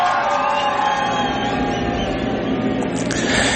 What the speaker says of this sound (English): I really do appreciate the applause.